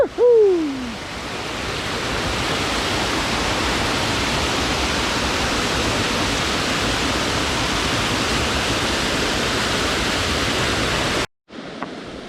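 Stream water flows along a wild forest trail in the Vercors, a steady, loud broadband rush that holds constant for about eleven seconds after a brief high call at the start, then cuts off.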